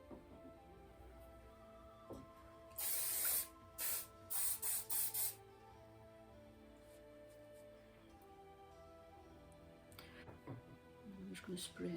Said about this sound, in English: I'm just going to spray that down at the back.